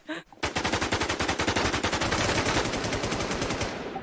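Rapid automatic gunfire in the zombie survival game Infestation, one fast, evenly spaced burst of close, loud shots running continuously for several seconds.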